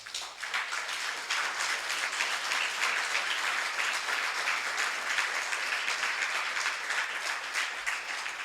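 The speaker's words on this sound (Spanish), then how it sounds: "¿Por qué no le da fuerte el aplauso al Señor?" A church congregation at a Spanish-language service breaks into sustained, steady applause, dense and even, filling the room for the whole stretch with no clear speech over it.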